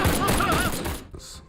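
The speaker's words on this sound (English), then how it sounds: "Guns." A rapid burst of gunfire crackles for about a second, close and loud, then drops away into quieter thuds and a faint tail.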